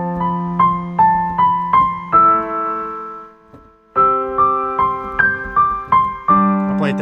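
Piano playing a root-note arpeggio pattern, a left-hand chord with notes repeated back and forth above it in a steady rhythm, close and clear, with a brief pause midway.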